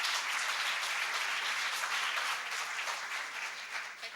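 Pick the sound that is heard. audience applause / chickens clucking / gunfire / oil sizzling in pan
audience applause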